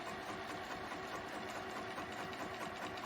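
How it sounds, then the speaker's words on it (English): A sewing machine runs steadily while stitching a straight seam through quilt fabric for a beginner baby quilt, a continuous mechanical whir that holds even throughout with no talking. "So I am going to just sew a nice straight seam here"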